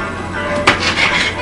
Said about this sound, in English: I'm just going to cut up the broccoli a little bit more